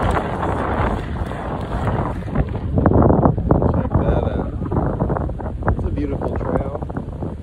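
Strong headwind buffets the microphone while skateboarding outdoors, a loud continuous roar of wind noise that swells and gusts throughout with rumbling board noise beneath.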